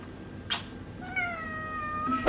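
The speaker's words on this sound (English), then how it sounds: "Say hi, kitty." A cat meows once softly, then gives a longer drawn-out meow, close by in a quiet room.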